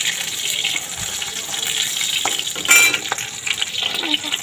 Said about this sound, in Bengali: আর একটু মাছের ডিম আছে, ওটা ভেজে নেবো